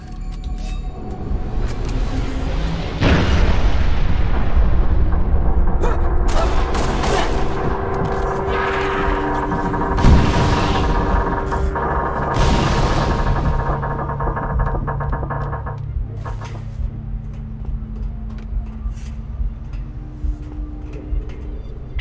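Artillery barrage in Halo: Reach, a sustained roar of heavy booming explosions with a sharp blast near the start and rumbling impacts that linger, fading toward the end.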